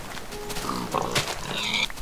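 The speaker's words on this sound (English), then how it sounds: "there are a shit ton of pigs" Video game pigs oink and grunt in a quick cluster of short squeals, close and fairly loud.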